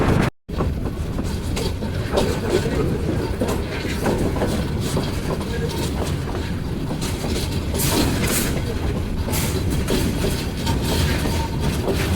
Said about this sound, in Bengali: এগিয়ে যাচ্ছে ঢাকা মহানগর এক্সপ্রেস